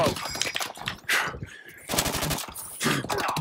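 Gunfire in the video game Call of Duty: Advanced Warfare, rapid automatic bursts in several clusters of close, sharp shots, with a player's voice speaking between and over them.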